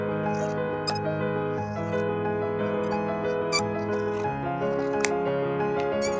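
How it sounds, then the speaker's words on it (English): Scissors snip crisply several times, trimming a pointe shoe, over a steady hum of background music. "using a pair of scissors"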